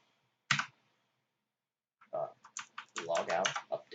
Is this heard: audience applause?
no